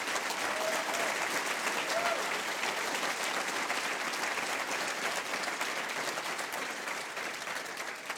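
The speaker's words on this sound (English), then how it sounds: "let's have a round of applause for the fantastic quality and content that we've had this week" Dense, steady applause from a conference audience at a tech panel with the Google Angular team, loud and continuous for the full stretch with no break.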